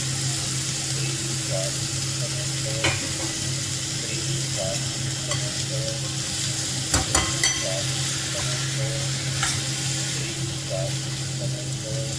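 Moth beans (matki) being stirred in a frying pan, with a steady close sizzle and periodic scrapes of the spoon against the pan, while a voice talks over the cooking.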